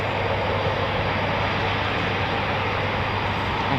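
Military jet with General Electric engines at an air show, a steady broadband roar heard from a distance, constant and unbroken with no voices over it.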